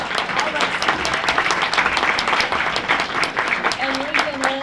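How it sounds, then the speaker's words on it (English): Audience applause at a free gardening talk, a steady dense patter of many hands clapping throughout, close and loud, with a voice briefly rising near the end. "we'd like to thank all of our speakers, so one more round of applause."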